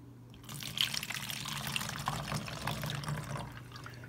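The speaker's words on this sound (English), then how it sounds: "I'm gonna add my vinegar to my bottle." Vinegar pours through a funnel into a bottle in a steady, close trickle that runs continuously for a few seconds.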